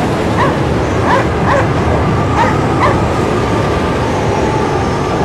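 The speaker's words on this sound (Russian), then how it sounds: "Где собаки-то лают?" Dogs barking in the video game Cryostasis: Sleep of Reason, a series of short yips and barks over a loud, constant roar of ambient noise.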